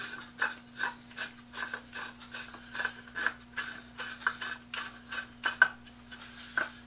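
An antique wooden clamp with wooden screws is handled, giving a series of soft rhythmic rubbing and knocking sounds, fairly quiet and close, with a steady low hum underneath.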